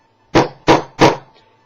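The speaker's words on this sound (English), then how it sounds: "tap the hammer." A hammer tapping a stamp into wet leather for a custom vambrace gives three sharp, close knocks in a steady rhythm, each with a short decay and no speech between them.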